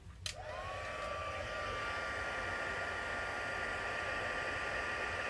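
Heat tool blowing hot air to set stamped ink on a card, switching on with a click and then running as a steady, loud whooshing hiss with a faint whine.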